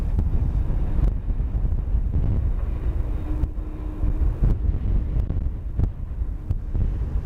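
Strong, steady wind roars and buffets across the microphone at Schiphol Airport, with low rumbling gusts and occasional thumps, and a faint hum in the background.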